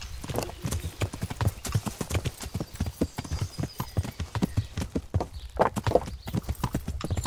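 Rhythmic clip-clop of horse hooves from a galloping horse in the video game Kingdom Come: Deliverance, steady and close, with a brief whinny near the end and faint talk underneath.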